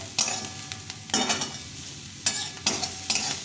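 Shredded cabbage and green chilies fry in a pan, with a soft sizzle under repeated scraping bursts of stirring, each stroke sharp and close.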